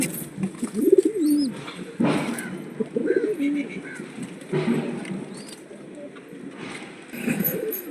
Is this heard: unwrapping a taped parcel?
no